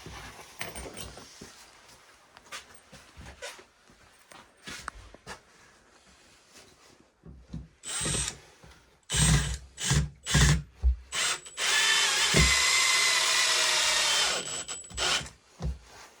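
Power drill driving long screws into a kayak and canoe storage rack, with short bursts of whirring and then a longer sustained run, close and fairly loud against quiet handling noises between.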